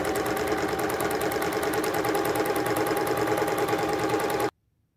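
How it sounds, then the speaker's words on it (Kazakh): A sewing machine runs a steady zigzag stitch along the edges of a fabric ruffle, a continuous close whirring chatter with a fast regular needle beat that stops abruptly near the end. "Енді екі шетін бұның зигзагпенен әдемелеп тігіп шығамыз."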